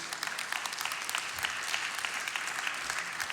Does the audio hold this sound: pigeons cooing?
no